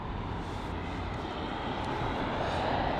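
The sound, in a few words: Airbus A350-900 airliner arriving at London Heathrow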